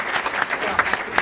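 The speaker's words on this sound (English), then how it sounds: "Let's give another round of applause to our three student speakers" An audience at a women's health forum applauds three student speakers, a steady wash of clapping with a few sharper individual claps standing out, moderately loud throughout.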